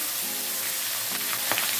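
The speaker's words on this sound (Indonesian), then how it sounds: "Kemudian panaskan sedikit minyak goreng dan kita goreng bawang merah serta" Shallots and chili peppers fry in hot cooking oil, a steady close, dense sizzle with a few sharper crackles and pops, no voices over it.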